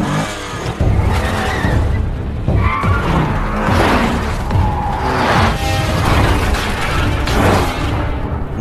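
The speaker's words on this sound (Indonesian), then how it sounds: "Namun sayangnya mobil mereka bertabrakan." Cars in a gangster film chase involving police skid loudly and crash, with screeching tyres, heavy impacts and booming crunches running continuously for several seconds.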